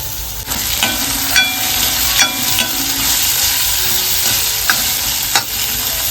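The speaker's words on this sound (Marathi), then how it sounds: "कांदा आणि आलं लसूण पेस्ट मस्त परतावून घेतलेला आहे ह्याच्यामध्ये टोमॅटो घालून घेतोय" Onion, ginger-garlic paste and tomato frying in a pan for an egg masala, a loud, steady sizzle close up with occasional scrapes and clinks of a spoon stirring, no talk.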